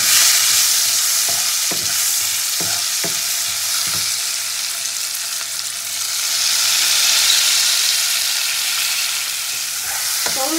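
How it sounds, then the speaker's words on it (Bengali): Chopped tomato sizzles steadily in a pan of hot oil, with intermittent scraping stirs from a spatula heard up close and no talking. "টমেটোটা ভাজতে ভাজতে দিয়ে দেবো আমি পেঁয়াজ কুচিটা"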